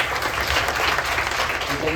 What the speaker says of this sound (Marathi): आता तुम्ही आपल्या कांबळे मॅडमसाठी जोरदार टाळ्या वाजवून त्यांना धन्यवाद द्या.